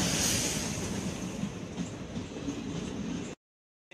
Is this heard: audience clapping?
no